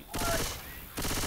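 Rapid automatic gunfire in a shooter video game, a loud close burst of rattling shots, a brief lull, then another burst, with a voice faintly under it.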